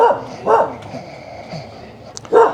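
An angry dog outside a dilapidated old house in Luang Prabang barks three times in short, sharp bursts, fairly close, with quieter yips in between and a faint voice in the background.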